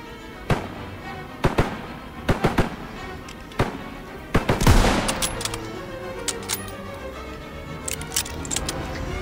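Sharp gunshots ring out in Call of Duty WWII combat, scattered single cracks and short bursts at irregular intervals, some near and loud, others fainter, with a denser flurry of fire midway.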